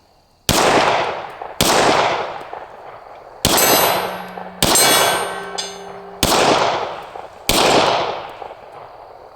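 Six loud, close gunshots from an ATI FXS 9 are spaced about a second or more apart, each with a ringing metallic clang as it hits a steel cowboy target. Some of the clangs hum on briefly.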